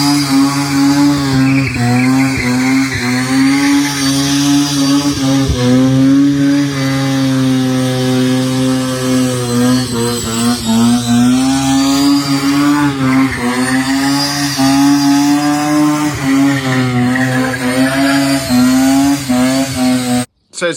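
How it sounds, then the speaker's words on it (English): 12a Bridgeport-ported rotary Mazda 626 on a burnout pad, its engine screaming at sustained high revs with buzzy, slightly wavering pitch and tyre noise, loud and continuous for about twenty seconds before cutting off. "the old owners sent a video of this on the burnout pad"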